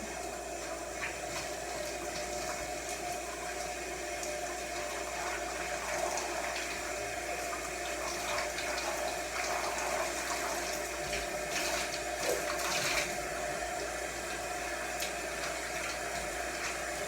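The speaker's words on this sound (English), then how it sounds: "you have to wash your hair in hot water" Hot water runs steadily from a tap or shower while hair is washed at home, a continuous even rush with a few faint splashes and knocks, no talking.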